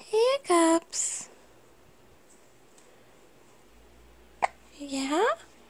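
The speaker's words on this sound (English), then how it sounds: "Hiccups." A baby hiccups a few times in quick succession near the start, alone with no talk, followed by a short soft click and a brief baby vocalisation toward the end.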